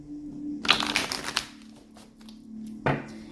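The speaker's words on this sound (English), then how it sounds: "One more shuffle." Oracle cards with raven imagery being shuffled by hand, a short burst of riffling and flicking near and close up, followed by a quiet pause and one final sharp tap of the deck.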